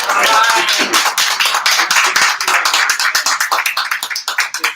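Audience at an Arizona NORML meeting clapping and cheering, a dense burst of applause that thins into slower scattered claps toward the end, with no talking.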